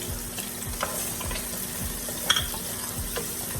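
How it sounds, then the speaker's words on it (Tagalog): Onions and garlic sauté in a pot for Filipino morcon, giving a steady low sizzle, with a spoon scraping and stirring at regular intervals close by and one bright clink of metal. "on the same pot, we're going to saute onions. And then garlic"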